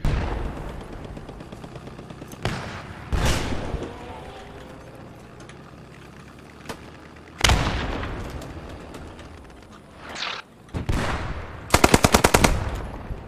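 Bursts of machine gun fire in a first-person shooter video game, with several loud rapid-fire volleys separated by quieter gaps, the last burst a fast even stutter of shots.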